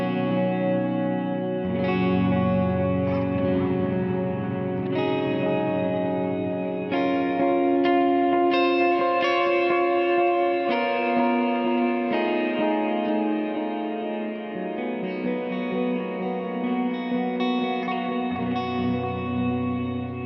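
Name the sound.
guitar pedal reverb decay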